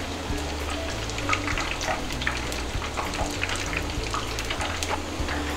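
Pakoras fry in hot oil over medium heat, giving a steady, close crackle and bubbling patter like light rain that runs unbroken throughout.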